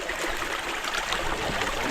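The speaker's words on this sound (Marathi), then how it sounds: "अरे किती मोठी मोठी उंच झाडं आहेत एकदम नदी आहे ना" A clear river flows through a dense forest of tall trees, producing a steady, close rushing and burbling of water with no other sounds standing out.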